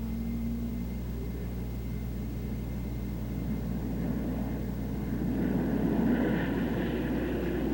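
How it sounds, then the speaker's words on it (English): Republic P-47 fighter bombers taking off from a runway, a steady loud piston-engine roar and low rumble that holds constant throughout, swelling slightly toward the end. "Loaded fighter bombers marshal on the runway and take off."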